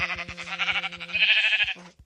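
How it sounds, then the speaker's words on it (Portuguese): Sheep bleating in a blocky survival video game as it is attacked and killed, a sustained nasal bleat repeated over a steady low buzzing pulse, loud and close with no talk. "Vamos começar matando uma ovelha."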